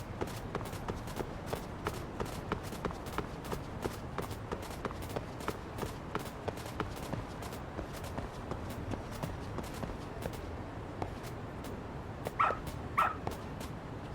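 A dog in the video game Lost Judgment gives two quick, fairly faint barks near the end, following a long stretch of steady footsteps and ambient game sound.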